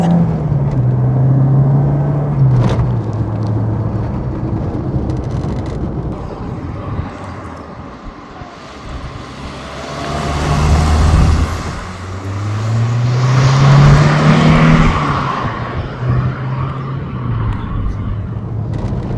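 A Renault R5 GT Turbo accelerates on an open road, its engine note rising and falling through gear changes with a steady rush of road and wind noise. Someone talks over it much of the time.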